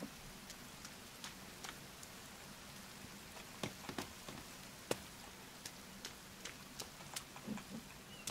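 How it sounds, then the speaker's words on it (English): Rain falling outdoors in the survival game The Forest, a faint steady patter with scattered sharper drops landing on surfaces, and no voices. "Here comes the rain."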